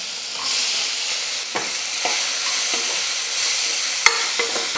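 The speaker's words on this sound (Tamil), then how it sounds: "இந்த சின்ன வெங்காயம் வந்து நல்லா வதங்கி சுருண்டு வரணும், அந்தளவுக்கு நல்லா வதக்கிக்கணும்" Shallots and curry leaves are sautéed in a pan in steady hissing oil, with occasional scrapes and clinks of a spoon stirring, close and continuous.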